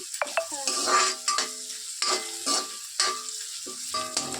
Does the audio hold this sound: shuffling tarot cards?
no